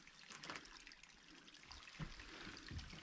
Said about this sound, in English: little stream right out this side running